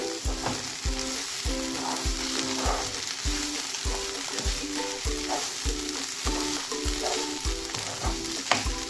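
Banana stem and long bean thoran fries in a pan with a steady sizzle, while a spoon stirs it in a regular rhythm of scraping strokes, close and clear with no talking.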